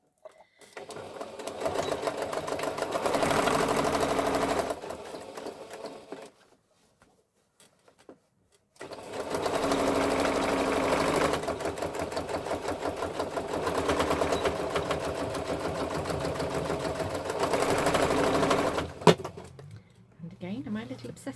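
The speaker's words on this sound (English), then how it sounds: "Just doing a little top stitch all around the top, obviously, around the top." A sewing machine top stitching around the top of an upcycled bag runs in two long steady bursts separated by a pause, close and loud, ending with a short clunk.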